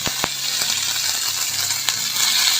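Mustard seeds sputter and sizzle in a spoonful of hot oil while prasadam is prepared for Sri Rama Navami, a steady close frying hiss with a few sharp pops.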